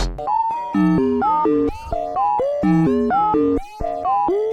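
A Behringer EDGE mono analog synthesizer plays a bouncy melodic line of short gliding notes with bright, buzzy tone, loud and upfront, no voices.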